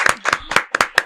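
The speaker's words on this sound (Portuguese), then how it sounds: "Uma salva de palmas," A small group claps on a podcast set, a brief burst of close, crisp handclaps in an uneven rhythm, about a half dozen sharp claps heard near and fairly loud with no speech.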